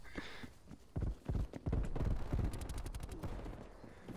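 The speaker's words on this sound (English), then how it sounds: "Oh, blind firing is fun." Blind firing in a video game: a loud rapid burst of gunshots, a quick run of sharp cracks that fades into a trailing echo.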